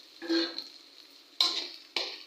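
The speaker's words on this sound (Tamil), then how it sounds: "இதிலே நல்லா வறுத்துக்கலாம்." Semolina (rava) roasting in a pan with green chillies and curry leaves, heard as three separate scraping stir strokes over a soft, quiet sizzle, with no voices.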